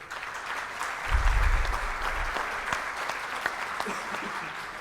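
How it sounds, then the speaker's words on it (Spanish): Audience applause closing an international security and defense symposium hosted by the Peruvian Navy, a broad steady clapping that swells after the first second and then holds at a moderate level for several seconds. "los despedimos con un fuerte aplauso"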